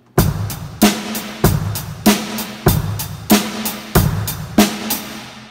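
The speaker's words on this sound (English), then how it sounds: "it might sound like this with the hi-hat and the snare drum and the bass drum." Rock beat on a drum kit with hi-hat, snare and bass drum, played at a steady moderate tempo with regular punchy hits and ticking hi-hat between, loud and close.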